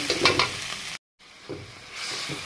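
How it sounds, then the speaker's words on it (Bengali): Masala of onion, garlic and green chilli fries in a pan for a fish curry. The close, hissing sizzle is stirred with soft scrapes and cuts out briefly midway before resuming. "মশলাটা ভালো করে ভেজে নিই, পেঁয়াজ রসুন কাঁচা ঝাল ভেজে নিচ্ছি"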